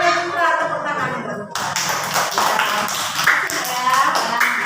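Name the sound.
classroom applause for a student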